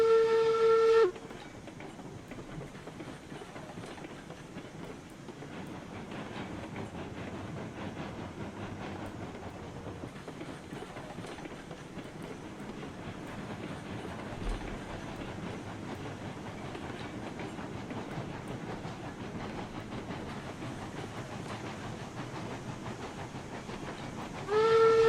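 A steam train rolling slowly through a rail yard in the RailRoads Online video game, a steady rumbling hiss and rail clatter throughout, with whistle blasts at the start and end.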